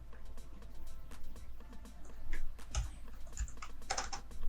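Keys clatter on a computer keyboard as code is typed into an expression, a quick irregular run of close taps with a few louder strokes, no voices.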